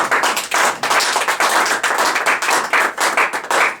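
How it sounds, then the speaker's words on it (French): Church congregation clapping in praise during a Sunday worship service, loud rhythmic applause of many hands with steady fast claps throughout, close and continuous. "acclame Dieu si ça te fait du bien"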